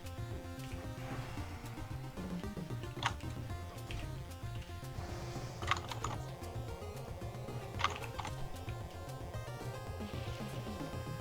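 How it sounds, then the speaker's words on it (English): Keys clatter on a computer keyboard during an online game session, steady fast typing with occasional harder strikes, faint and close under a droning music background, no speech. "It's when you smack the keyboard too hard."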